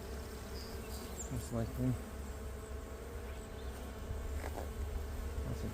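Honey bees buzz in an open hive box full of foragers and drones, a low steady hum with individual bees droning past close by, while a person briefly speaks.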